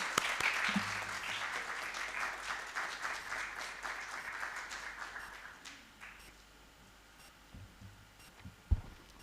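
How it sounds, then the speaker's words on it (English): Audience applauding at a youth poetry programme event, a broad sustained clatter of many hands that thins out and fades after about six seconds, leaving a quiet room with a few faint knocks. "Please welcome her with a round of applause."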